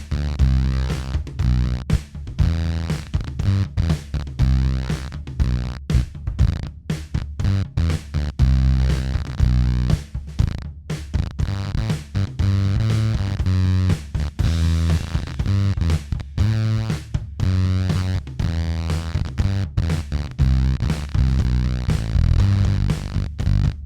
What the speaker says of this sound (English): this thing is rad to get that kind of sputtery, broken toaster oven type of fuzz sound